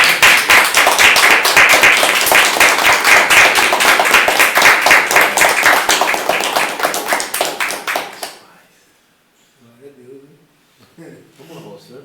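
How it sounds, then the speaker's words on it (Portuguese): Church congregation clapping in rhythm, loud, quick and dense for about eight seconds before fading out, then a few faint voices speak in the quiet. "Uma salva de palmas para o Senhor."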